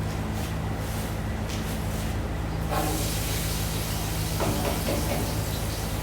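Ogbono melting in a cooking pot gives a continuous loud hiss and sizzle with a low steady hum beneath, brightening partway through, with no talking.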